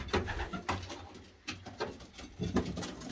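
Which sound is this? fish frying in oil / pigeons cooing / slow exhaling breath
pigeons cooing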